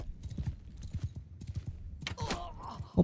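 A horse gallops in rapid, even hoofbeats during mounted combat in Mount & Blade 2: Bannerlord, and a burst of clashing action and a short whinny-like cry break in near the end.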